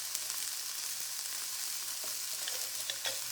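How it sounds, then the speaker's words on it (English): Onions sweating in oil in a pot for a creamy Indian soup with aloo gobi spices, giving a steady, close hiss of frying with faint stirring scrapes and no voices. "my onions are sweating nicely now"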